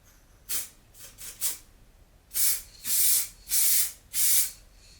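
A spray paint can hisses in bursts: four short puffs, then four longer, louder sprays in a steady rhythm, close up with no talking, painting car parking sensors.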